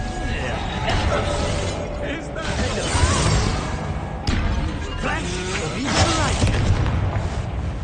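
A Reductor spell blast goes off in a wizard duel in Hogwarts Legacy. Booming, crashing impacts and shattering bursts come amid continuous busy combat noise, with voices talking over the action.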